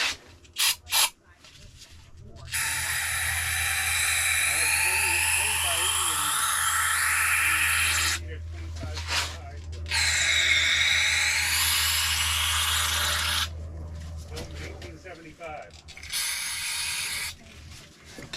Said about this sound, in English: Let me get some brake clean here and get those cleaned out for them.